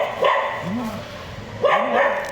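Stray dogs bark inside the walled grounds of the Aymanam Narasimhaswamy temple in Kottayam, giving two short bursts of barking close by.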